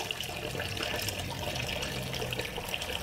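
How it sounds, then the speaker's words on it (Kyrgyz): Warm water pours steadily into a pot of lightly fried vegetables and potatoes while noodle soup is being cooked, a soft, continuous trickling and splashing at fairly low volume. "анан кайнак сууну куюп коем"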